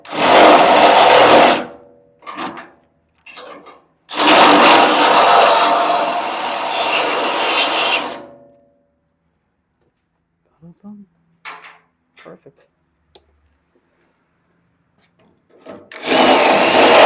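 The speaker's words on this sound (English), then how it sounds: "I just ream it out to the next size bigger" A hole in a 1969 Camaro part is reamed out one size larger in two long, loud rasping bursts, followed by quieter scattered clicks and scrapes.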